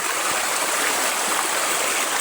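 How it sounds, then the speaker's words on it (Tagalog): A farm stream flows with a continuous, even rush of water, close and steady, without any talking. "Ang ganda ng tubig oh."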